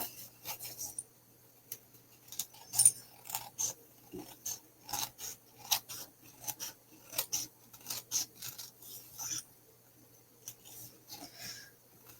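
Paper being trimmed for a handmade greeting card, a string of soft, close snipping and rasping cuts in short irregular bursts over a quiet background.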